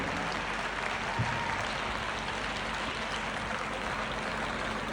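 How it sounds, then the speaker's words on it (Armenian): A packed opera-house audience at a live concert breaks into a continuous wash of applause for the performers and dance groups. The clapping stays dense and steady throughout. "Եկեք մի հատ բարձր ծափարենք իմ ընկերներին, արվեստագետներին, պարային խմբերին, բարձր։"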